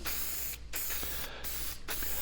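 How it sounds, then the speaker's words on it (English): Deft spray lacquer hisses from an aerosol can onto wood in three steady bursts separated by short pauses, close and loud, with no speech. "We're using Deft spray lacquer."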